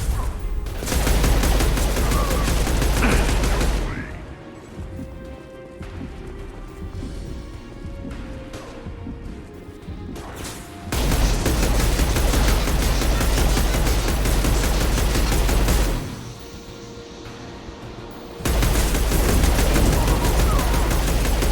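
Gunfire in the video game Mass Effect 2 comes in three loud, dense bursts of rapid shots, separated by quieter stretches of lingering combat noise, with no speech.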